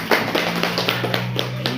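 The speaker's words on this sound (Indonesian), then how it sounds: "Tepuk tangan dulu untuk kawannya." Classmates in a sixth-grade classroom clap for a student, a short burst of scattered, uneven hand claps over steady background hum.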